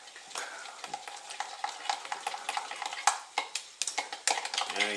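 A utensil scrapes and stirs food in a frying pan over steady sizzling, with clinks and knocks of metal against the pan in an irregular rhythm, close by.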